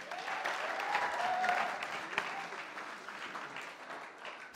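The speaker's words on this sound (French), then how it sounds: "On peut applaudir Ludo, s'il vous plaît?" Audience in a church hall applauding a performer named Ludo, a steady wash of many hands clapping at moderate distance, fairly even throughout with a faint tone briefly over it.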